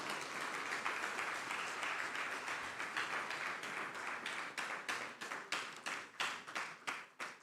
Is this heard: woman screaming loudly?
no